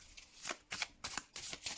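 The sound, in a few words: shuffling Hoodoo Tarot card deck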